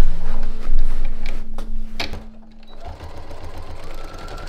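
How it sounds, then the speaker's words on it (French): A sewing machine stitches fabric along a seam allowance, a steady close mechanical whir running for a few seconds, briefly slowing before resuming at a softer pace; no talking. "je vais coudre juste ici sur la marge de couture"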